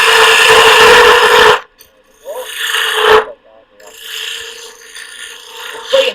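Metal lathe squaring off a rounded shoulder on a small workpiece, with repeated rasping cuts. A long loud scrape is followed by two shorter, quieter passes separated by brief pauses.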